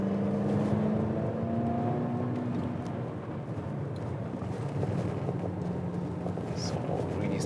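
An Infiniti Q30 accelerating in sport mode on a countryside road: a steady, loud engine drone with rising pitch sweeps and road and wind roar throughout, heard from inside the car.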